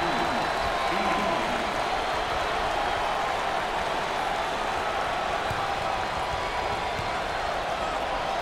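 A home crowd at an NCAA Tournament first-round basketball game between Charleston and Alabama roars in steady, dense cheering and applause that holds loud and unbroken throughout.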